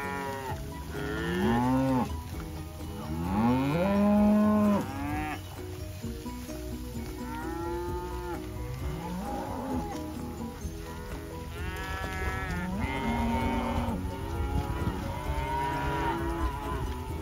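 South Poll cattle, cows and calves, bawling and mooing repeatedly while grazing a cover crop pasture in East Texas, many overlapping calls near and far forming a steady chorus over outdoor background noise.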